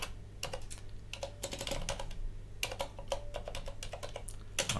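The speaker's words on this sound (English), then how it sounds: "We're at the phase where we install the bootloader, and we have to just type along without any typos." Fast, uneven keystrokes on a computer keyboard come in bursts and short pauses, close and fairly quiet over a steady low hum.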